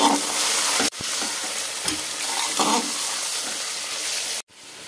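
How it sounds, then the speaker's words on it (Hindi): Mutton frying with onions and garlic in a pan gives a loud, steady sizzle with stirring scrapes, broken by two brief pauses. "प्याज के साथ अच्छी तरह से इसे फ्राई कर लेंगे।"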